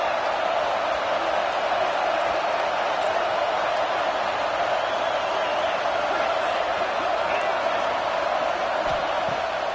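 Steady, dense crowd roar fills a large stadium during a USC football game, a constant wash of many voices with no breaks, fairly loud throughout.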